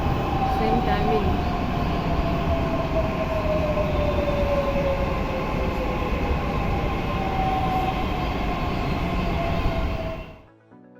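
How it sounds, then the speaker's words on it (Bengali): A train pulls into a Mumbai station with a loud continuous rumble of wheels and carriages, a drawn-out metallic squeal of brakes over it, before cutting off at the end. "ট্রেন আসছে"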